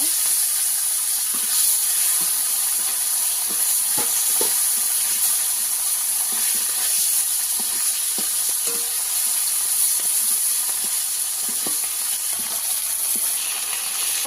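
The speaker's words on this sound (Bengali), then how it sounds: "কিভাবে আমি এই মাছগুলো ভেজে নেব" Small fresh pond fish fry in hot oil with a loud, continuous hissing sizzle, broken by scattered light clicks and spatters as it goes on.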